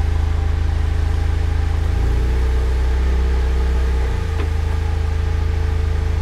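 An off-road rock crawler on a difficult trail obstacle grinds along with a steady low engine drone, dipping and labouring briefly midway as it works over the rock, close and continuous with no talking.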